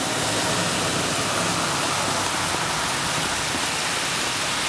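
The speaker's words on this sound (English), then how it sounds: "It's raining right now" Heavy rain pouring onto a road in Ocean City, New Jersey, a dense, steady hiss of water that fills the whole stretch evenly, loud and close with no voices.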